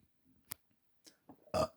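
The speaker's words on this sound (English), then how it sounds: "Sorry, I had to burp." A single loud burp erupts near the end of a short, quiet stretch during commentary on a NASCAR hunger games race, preceded by a few faint clicks and soft noises.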